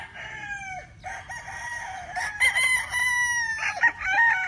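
A young stag rooster crows up close, several overlapping cock-a-doodle-doo calls in quick succession with loud, drawn-out harmonic cries.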